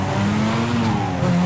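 Tires squealing during a burnout in Need for Speed: Carbon, a loud close screech layered over a droning engine, continuous for its short length.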